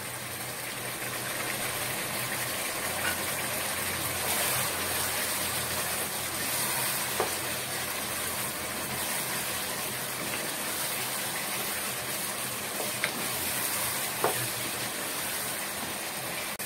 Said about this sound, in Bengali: ভাজা জিরা দেওয়ার পর একটু নেড়ে আমি নামিয়ে নিব